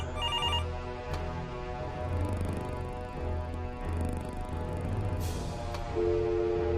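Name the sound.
telephone ringing, video game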